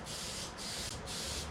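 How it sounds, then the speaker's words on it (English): Three sustained bursts of aerosol spray shellac hiss onto a mirror, each lasting about half a second with brief gaps, close and steady. "Just using a spray shellac here,"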